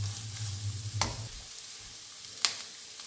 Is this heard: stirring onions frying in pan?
yes